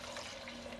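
Corn moonshine from a second bourbon-style distillation pours steadily and spills past its target, a soft continuous splashing trickle with a faint steady hum beneath it and no talk.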